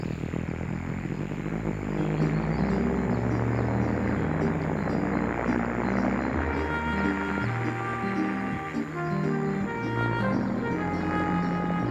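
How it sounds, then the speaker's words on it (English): A propeller plane engine drones and revs steadily, loud and close, its pitch rising partway through with a rough, throbbing hum throughout. "revved the engine, and the plane shuddered and shook and began to move forward"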